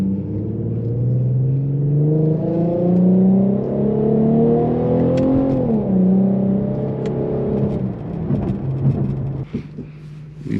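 A tuned Infiniti Q50S with a VQ engine running E85 pulls hard. Its engine note climbs steadily in pitch, drops at a gear change midway, then rises again and fades, loud and close throughout.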